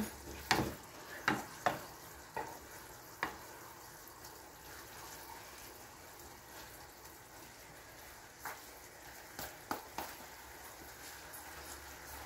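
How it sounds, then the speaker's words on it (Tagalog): Sotanghon glass noodles stir-fried in a pan, with a soft steady sizzle and scattered sharp clinks and scrapes of a utensil stirring, several quick bursts early and a few more near the end. "Lutuin po natin ang ating sutanghon."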